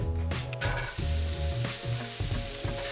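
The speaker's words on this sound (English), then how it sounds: "put it into a preheated frying pan" Szechuan green bean stir-fry ingredients hit a preheated frying pan with a loud, crackling sizzle that keeps going, pulsing as the food is moved around, with no voices.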